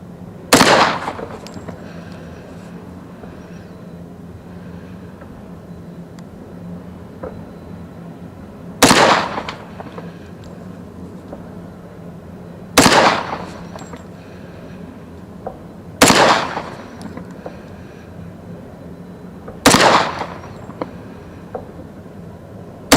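Remington R1 1911 Government model .45 ACP pistol firing S&B ammunition, five loud sharp single shots spaced several seconds apart with brief ringing tails and quiet pauses between.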